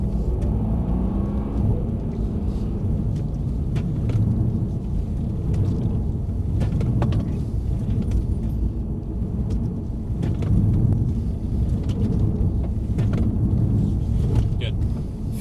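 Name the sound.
Mercedes-AMG C63 S car driving on track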